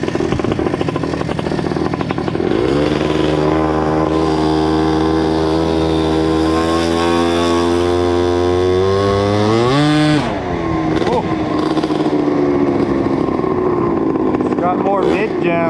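A Honda Dio scooter with a 120cc stroker engine runs during a first test ride. It is a loud, buzzing two-stroke note whose pitch climbs steadily under throttle, drops, then rises again, with someone talking over it.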